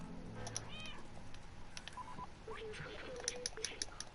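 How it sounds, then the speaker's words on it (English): Cat meowing in the video game Stray: a short, faint meow near the start, followed by soft electronic beeps and light tapping against quiet background ambience. "Meow."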